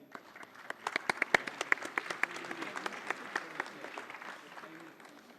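A ceremonial audience at the ITS Diamond Jubilee event gives a round of applause during a token-of-gratitude presentation, with sharp individual claps rising and thinning over several seconds, heard at moderate distance.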